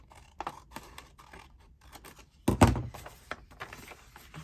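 Scissors cut paper for a handmade journal pocket page: a series of soft, close snips and rustles, then one louder crunching cut and handling noise, with no talking.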